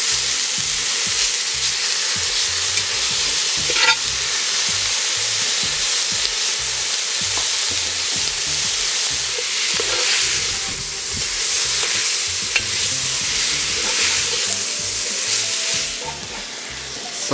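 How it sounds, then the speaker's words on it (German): Bacon and beef fry together in a Dutch oven, giving a steady close sizzle and hiss with intermittent stirring scrapes and clicks, easing slightly at the very end. "Jetzt werden wir hier unseren Speck dazugeben, den auch ein bisschen mit anbraten."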